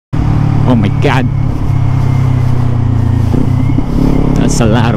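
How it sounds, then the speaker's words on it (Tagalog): Road traffic in Pampanga, heard from a Kawasaki Z400 motorcycle, comes as a loud, steady engine hum and rumble with a few short rises, and a rider speaks over it in places. "That's a lot of traffic."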